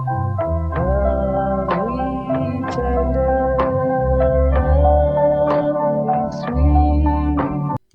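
A recording plays about 3% slow and slightly lower in pitch, with the intro cut off: a sustained, gliding sung melody over steady, continuous accompaniment, heard alone without talk.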